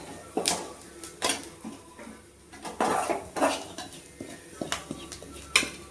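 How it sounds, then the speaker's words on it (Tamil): Food being tossed and mixed in a pot makes a close, uneven run of metallic clanks and scrapes from a spoon against the pot, several bursts spread across a few seconds, with no talking. "அப்படியே தூக்கி போட்டு கலக்கிட்டோன்னா வேலை முடிஞ்சு"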